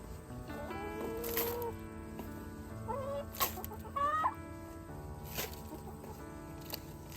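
Backyard chickens clucking around a coop, a few rising calls poking out at intervals over steady background noise, fairly close and moderately loud.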